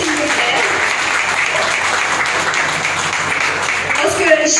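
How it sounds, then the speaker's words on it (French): Sustained audience applause fills a ceremony hall, a steady dense wash of many hands clapping throughout at close, even loudness without a break. "on l'applaudit à nouveau, s'il vous plaît"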